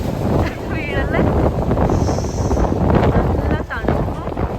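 Strong wind buffets the microphone on a cold, rainy hill station outing in Munnar, a steady broadband rush throughout with gusts, while a person talks over it.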